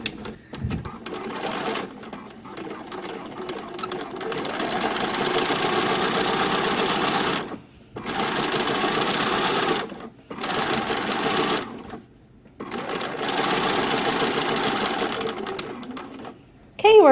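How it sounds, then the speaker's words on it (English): Sewing machine edge stitching about an eighth of an inch from a dress pocket seam, running in long steady bursts with brief pauses between runs, close and fairly loud, with no talk over it. "And when I edge stitch, I get pretty close."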